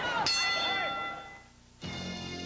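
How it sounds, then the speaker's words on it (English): A boxing ring bell at a heavyweight bout between Jimmy Young and Ossie Ocasio gives a single bright clang that rings out with rich overtones and slowly fades, over steady arena background noise. "Bell in about 3 seconds."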